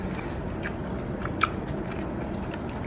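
Sweet chili chicken noodles being chewed close up, a soft continuous wet mastication with faint crunchy bites and one small sharp click near the middle, with no talking.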